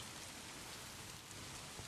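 Quiet, even rainfall at Sosnowiec Główny station in the SimRail game, a faint continuous hiss of rain with no other sounds over a brief moment.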